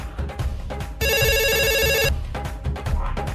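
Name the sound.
telephone ringing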